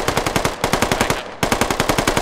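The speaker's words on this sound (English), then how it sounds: "Hero, I'm gonna cross your line of fire." Rapid machine gun fire in a military video game, delivered in loud, steady rhythmic bursts with a brief pause near the middle before the shooting resumes.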